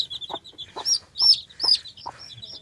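Rasangi breed chickens cluck at close range in a run of four or five sharp, repeated calls, with no talk over them.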